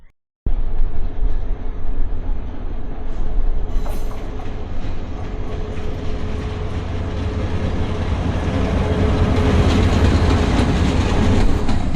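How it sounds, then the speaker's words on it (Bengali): A train pulls into Dinajpur railway station: after a brief quiet start, a loud, continuous rumble of rolling wheels and carriages builds and holds close by, with faint clatter and no talking. "তো আমাদের ট্রেনটা চলে আসলো"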